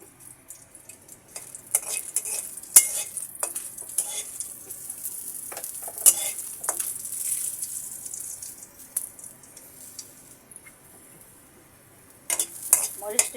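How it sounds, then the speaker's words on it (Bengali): A few dried red chillies frying in oil before going into a radish-greens dish, giving a bright, crackly sizzle with sporadic sharp pops and stirring clicks, close by, fading quieter toward the end before a final burst. "শাকে দেওয়ার জন্য আমি কয়েকটা শুকনো মরিচ ভেজে নিচ্ছি।"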